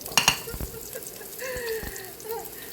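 Cabbage, Baguio beans and carrot sautéing in a hot pot on an induction cooker, with a quick burst of sharp spattering crackles at first, then a softer ongoing sizzle and stirring up close.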